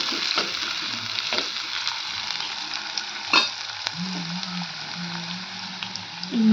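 Sliced medium-size onions sizzle steadily in a hot pan, a continuous close frying hiss with a few soft stirring scrapes and clinks, no talking.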